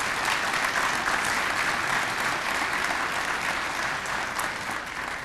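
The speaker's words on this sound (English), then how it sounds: "let's give a round of applause for our JTHS Athletic Boosters" Full, sustained applause from a large audience, loud and even throughout, fading slightly toward the end.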